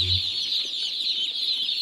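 Young broiler chicks, one to fifteen days old, fill a poultry shed with a dense, continuous chorus of high-pitched cheeping, steady and close, with no talking.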